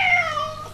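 A cat at a veterinary clinic gives one short, clear meow, loud and close, with a falling pitch and no voices over it.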